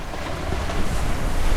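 Steady wind rushes over a sailboat crossing the Atlantic under spinnaker, blending with the wash of water along the hull in a continuous, fairly loud roar with no voices.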